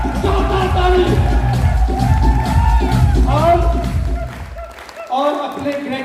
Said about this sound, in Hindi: हल्ला बोलते जोरदार ताली, जोरदार ताली